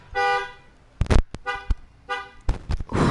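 Car horn honks in a few bursts, a sustained tonal blare at the start and again near the end, with sharp broadband knocks between them, fairly close and loud with no talk.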